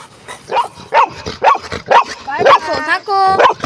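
A dog, an old friend of a Golden Retriever, barking in a quick run of close, loud yips and woofs, with a couple of drawn-out whining barks near the end.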